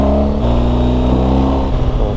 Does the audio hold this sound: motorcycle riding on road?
yes